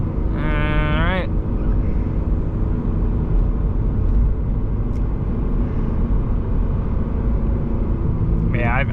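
A second-generation Subaru BRZ drives a back road, its close, steady engine and road rumble droning throughout, with brief rising tonal sweeps at the start and end.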